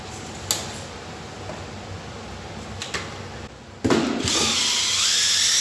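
A power drill stirs two-part epoxy floor coating components together, starting with a few short bursts and then running steadily and loudly near the end.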